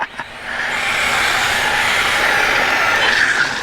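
A Vaterra 1/10 Ford Fiesta RallyCross 4x4 3S brushless RC car spinning its tires, a loud, close, continuous high-pitched whine and hiss that swells in the first second and holds steady, with no talking.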